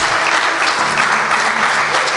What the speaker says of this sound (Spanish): Dale un fuerte aplauso al Señor en el nombre de Jesús.